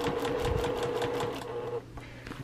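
A sewing machine hums close and steady as it stitches binding onto a quilt, its rapid needle rhythm running for about two seconds before slowing and stopping.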